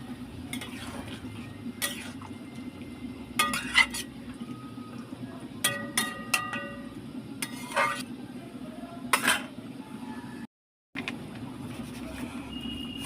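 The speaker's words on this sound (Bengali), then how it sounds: "নাড়াচাড়া করে নিলাম একটু জল দিয়ে দেব" A spoon stirs a pot of vegetable labra curry, producing repeated sharp metallic scrapes and clinks against the pot over a constant low hum and soft cooking noise, followed by a brief silence.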